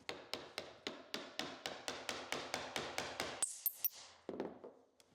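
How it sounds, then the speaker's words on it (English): A steady run of about fifteen sharp, evenly spaced hammer blows driving a wooden wedge tight to clamp material on a CNC spoilboard, ringing close and clear, then a few scattered knocks and a scrape at the end. "And now, like before, I can hammer this guy tight."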